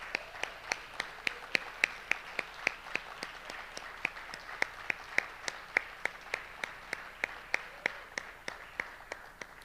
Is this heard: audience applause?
yes